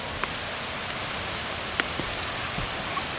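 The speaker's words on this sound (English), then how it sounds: "I hear the river." A river rushes near Glen Falls in Highlands, North Carolina, a steady broadband wash of flowing water heard from a short distance, with a few faint clicks and footstep-like knocks on top.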